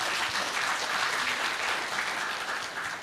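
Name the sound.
audience applause for the speakers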